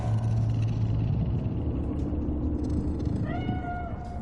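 A cat in the Night City streets of a video game meows a few short times near the end, over a steady low rumble of ambient city hum.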